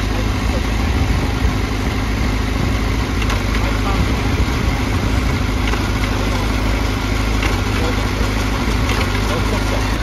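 A Honda CBR1000RR-R motorcycle engine, on a hand-operated racing bike at Suzuka Circuit, runs with a steady, loud, close rumble throughout while someone talks over it.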